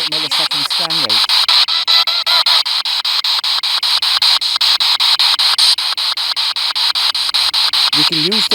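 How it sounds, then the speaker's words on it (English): An FM radio scans the band in reverse at a fast 200-millisecond step, giving loud hissing static chopped into rapid regular pulses, with snatches of a broadcast voice at the start and end. "I'm just scanning the FM band in reverse direction at a 200 millisecond scan rate"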